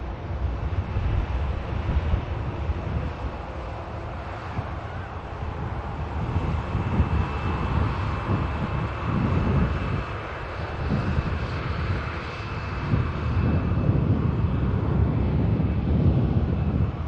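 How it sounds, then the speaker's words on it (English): A Ryanair Boeing 737 MAX 8200 lands at Manchester Airport, its engines a broad, steady roar heard from a distance for the whole stretch, with wind buffeting the microphone and no voices. "this MAX aircraft, MAX 8200 that's about to touch down"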